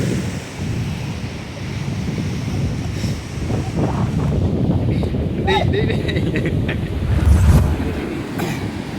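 Wind buffets the microphone at the beach with a low roar of waves behind, while voices chatter nearby throughout.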